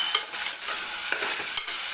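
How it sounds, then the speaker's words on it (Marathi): Chopped tomato fries in hot oil with ginger garlic paste in a pan for a potato curry, a steady close sizzle with a few stirring scrapes and no voices. "टोमॅटोसुद्धा छान असा मऊ होईपर्यंत आपल्याला तेलामध्ये भाजून घ्यायचा आहे."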